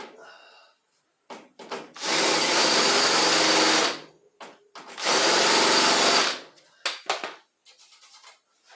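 A drill drives a screw into wood while fitting pop-out headlights, two sustained loud whirring runs of about two seconds each, separated and surrounded by short handling knocks.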